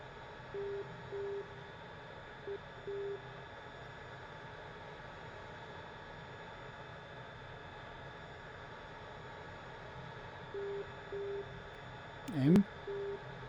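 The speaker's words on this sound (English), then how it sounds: "Now let's listen to the Morse code." An ADF navigation beacon in DCS World's L-39ZA cockpit sends Morse code as faint steady tone beeps in short dashes and dots, repeated twice over a constant engine hum, with a brief cockpit voice near the end.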